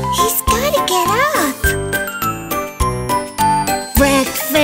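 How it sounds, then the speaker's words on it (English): Bright bell jingles ring in a rhythmic children's song, repeating in quick bursts alongside children's singing voices and a bouncy backing track. "Morning bells are ringing!"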